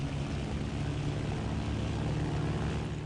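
Plane engine droning in flight in the video game Battlefield 1942, a loud, steady propeller roar that holds evenly throughout with no pauses.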